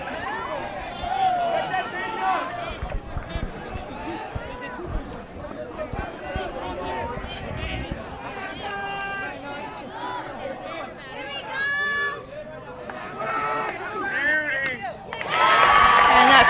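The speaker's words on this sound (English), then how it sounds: "You can definitely hear that CV crowd getting a little bit excited here." A Crescenta Valley crowd at a high school baseball game in the bottom of the seventh grows excited, with scattered cheers, chatter and claps rising and falling under a commentator's steady talk. Voices swell louder near the end.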